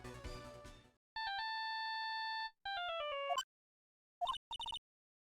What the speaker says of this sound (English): she also received a phone call from the owner of the phone